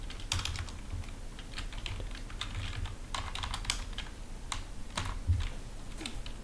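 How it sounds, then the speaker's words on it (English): Rapid typing on a computer keyboard while entering code for a Python FastAPI and HTMX web app, with quick irregular key clicks running steadily throughout, close and fairly quiet, no talk. "Make sure I type that right."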